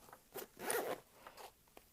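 Zipper on a small front pocket of a Vanquest Falconer 27 backpack being pulled open, a few quick close rasping strokes, quiet and with no talk.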